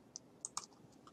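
A few faint, sharp computer mouse clicks, single and paired, as the Insert menu is opened in an online Google document.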